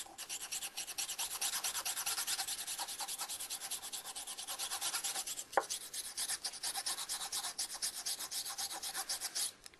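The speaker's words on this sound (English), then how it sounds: "I take the shank brush, dip it in, and then I start going in and scrubbing it." Shank brush scrubbing back and forth inside the shank of a tobacco pipe during routine cleaning, a steady close rasping rub that runs without pause, with one sharp tick partway through.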